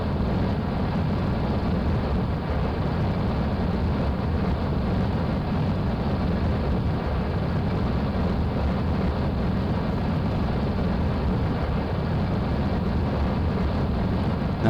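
RAPIER jet engines in Kerbal Space Program produce a steady, broadband roar, loud and unchanging throughout with no breaks and no voices.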